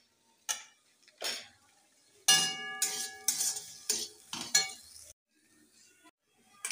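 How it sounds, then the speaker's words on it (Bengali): Grated ginger and spices being stir-fried in a pan for a dal puri filling: sporadic metallic clinks and short scrapes of a spoon against the pan, separated by quiet gaps, with no clear sizzle. "এবার আমি ভালোভাবে কষে নেব।"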